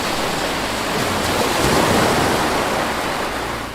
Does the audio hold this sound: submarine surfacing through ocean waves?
yes